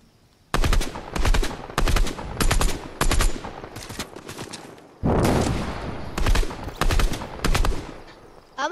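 Rapid bursts of automatic gunfire from a golden SCAR rifle in the Fortnite video game, several loud, close volleys separated by brief pauses.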